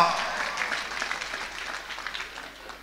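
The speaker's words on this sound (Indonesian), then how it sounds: "Tepuk tangan ya ora apa-apa" Audience applause during an Islamic sermon at an anniversary gathering, a soft diffuse clatter of clapping heard somewhat distant, with a voice speaking over it.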